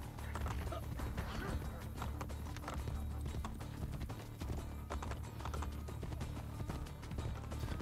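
Horse hooves clip-clop steadily at a riding pace in Assassin's Creed Brotherhood, a dense rhythmic clatter running the whole time over a low rumbling game soundscape, with no talk.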